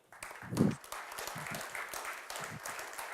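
Applause from a conference audience greeting the Indonesian ambassador as he joins a panel, a quiet spread of clapping with a thump near the start, fairly faint and steady.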